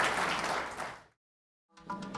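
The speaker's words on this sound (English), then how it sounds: "Let's have a round of applause for Naperville and the officers that you saw them up there" Applause at a police valor awards dinner honoring Naperville police officers, a burst of clapping that fades into a brief silence before softer clapping and room noise return.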